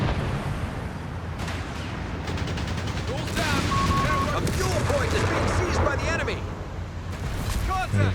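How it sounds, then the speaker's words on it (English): Incendiary artillery barrage in Company of Heroes 3 striking near a Sherman tank, a dense run of gunfire and blasts building into sustained rumbling impacts under game effects and continuous commentary talk. "Wait for the incendiary barrage on the Sherman for Vet 1."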